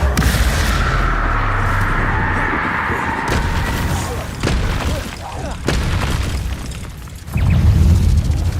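Spell blasts from the Hogwarts Legacy video game go off as deep booms and bursts, repeating in irregular succession with loud low rumbling hits, including a heavy blast near the end, while a voice calls out spell names.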